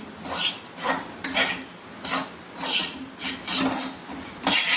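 A spoon stirs maida barfi mixture in a pan with repeated rhythmic scraping strokes, about eight close rasping sweeps at an even pace and no talk.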